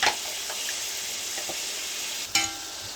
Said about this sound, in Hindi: अदरक लहसुन डाल दिया मैंने, साथ में टमाटर डाल दिए।